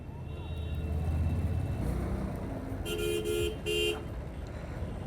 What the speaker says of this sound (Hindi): बहुत ट्रैफिक है यार, ये तो बहुत ज़्यादा ट्रैफिक है कसम से